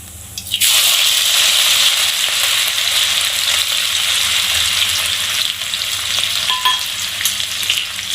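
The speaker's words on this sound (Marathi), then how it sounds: "आणि चांगलं तेलामध्ये परतून घेऊया।" Cumin, coriander, finely chopped ginger and green chili hit hot oil for a mini samosa filling, bursting into a loud, steady sizzle that holds throughout with no voices.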